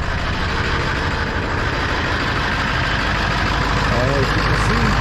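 A 2000 Ford F-250 truck engine idles with a steady low rumble and a slight miss from an injector problem, running continuously close to the microphone.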